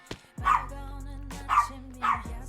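Lizzie the dog barks three times in close succession, loud and near, with a low rumbling background between the barks and no speech.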